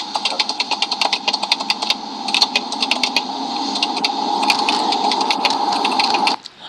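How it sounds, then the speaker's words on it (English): A sticking computer keyboard clatters under rapid typing, a fast run of sharp mechanical clicks near the microphone that merges into a continuous rattling whir before stopping abruptly. "This keyboard is sticking."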